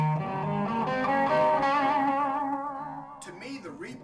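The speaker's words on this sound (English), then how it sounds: "To me, the repeats sound cleaner when they're in the effects loop." An electric guitar plays a sustained note that trails off into clean, fading delay repeats run through an amp's effects loop, ending with a few softer plucked notes.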